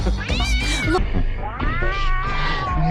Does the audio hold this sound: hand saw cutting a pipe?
no